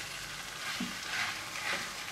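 Minced kefta meat fries in a pan with vegetables and peppers, giving a soft continuous sizzle close by, with a couple of gentle stirring scrapes and no talking.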